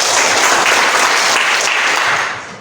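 Classroom audience applauds a group presentation with dense, loud, even clapping that holds steady for a couple of seconds and then begins to fade.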